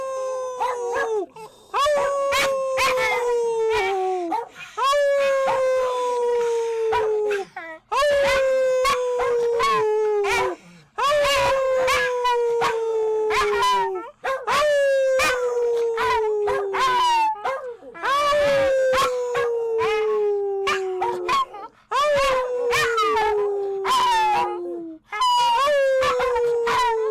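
A dog named Howl howls repeatedly in long, wavering bursts of about two seconds each, with brief gaps between them, loud and close throughout.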